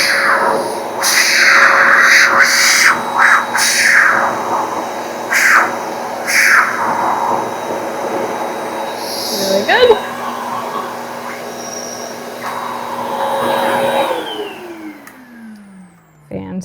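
A pet grooming vacuum runs with a loud, steady motor whine while its brush attachment passes through a dog's hair, pitch dipping and surging with each stroke before the motor winds down and stops.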